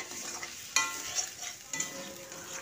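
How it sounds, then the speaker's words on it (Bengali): Pieces of chicken sizzle in a pan with spice paste while being stir-fried, a soft, steady frying hiss broken by a few sharper scraping stirs. "এই মশলাটা আমার কষা হয়ে গেলে আমি দিয়ে দিলাম মাংসটা। দিয়ে আবারও আমি 2 মিনিট খুব ভালো করে কষিয়ে নেব।"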